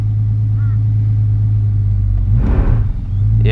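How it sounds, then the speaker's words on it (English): An old abandoned car driving with its brakes locked up, a loud close engine rumble with a rough scraping burst midway as the wheels drag, no talk over it. "Yep, we got locked up brakes."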